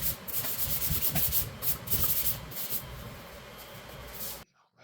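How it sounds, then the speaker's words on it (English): Sandpaper in 80 and 220 grit is rubbed by hand over wooden parts of a farmhouse coffee table, producing close, rhythmic scratchy strokes in quick repeated bursts before stopping abruptly. "I sanded those by hand using 80 grit sandpaper and then finishing off with the 220 grit sandpaper"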